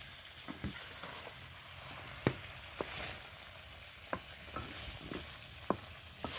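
Meat and potato curry being stirred in a pot, with sharp spoon clacks against the metal at irregular intervals over a quiet, low sizzle.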